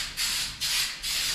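Coating sprayed onto a truck frame during a single cab dually build: three close hissing bursts of spray, each lasting about a third of a second with brief pauses between them, no voices.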